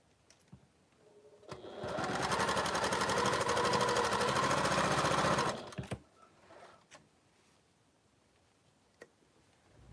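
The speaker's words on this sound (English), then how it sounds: "I'm going to sew a 1/4 of an inch down that line." A sewing machine runs a steady quarter-inch seam on quilting fabric for interlocking triangles, a loud, even stitching burst of about four seconds, with quiet handling noises before and after and no talking.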